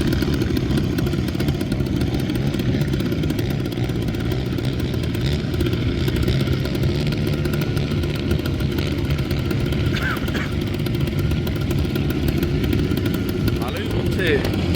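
An ATV engine drones steadily while climbing a red sand dune in a desert near Riyadh, a continuous mid-pitched motor roar that stays loud and constant for the whole stretch, with no break in the engine noise.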